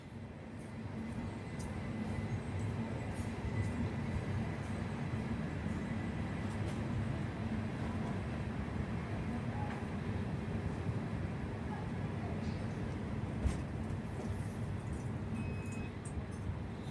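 Amritsar–Ajmer Jan Shatabdi express rolling through a North Western Railway station, a steady loud rumble of wheels and carriages that holds without letup from start to finish.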